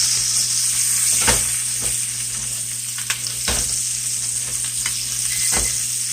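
Butter sizzling and frying steadily in a pan with ribeye steaks, a constant bright crackle with occasional louder pops and stirring scrapes, close and alone without talk.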